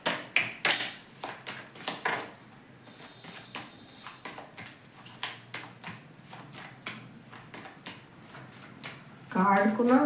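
Tarot cards are shuffled in quick, repeated riffling bursts, crisp papery taps and slaps in a steady rhythm, close by, with a voice speaking briefly near the end.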